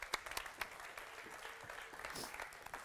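Studio audience applauding two guests, Professor Joyeeta Gupta and Mr. Freek Bersch, at a climate change discussion; a steady, moderately quiet patter of many hands clapping throughout.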